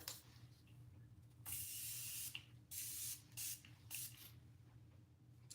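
Morphe Jumbo Continuous Prep and Set setting spray misted in four or five quick hissing bursts, close and fairly soft, separated by short pauses over a faint background hum.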